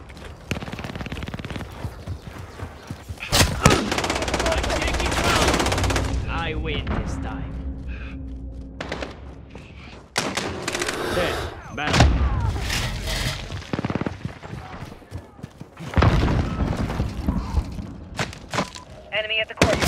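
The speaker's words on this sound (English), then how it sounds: "Sentry gun online." Automated sentry gun in Call of Duty multiplayer on the Shoot House map, loud with rapid bursts of gunfire and heavy booms throughout, under clipped game voice callouts and player talk.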